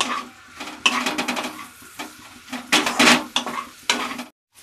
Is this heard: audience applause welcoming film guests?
no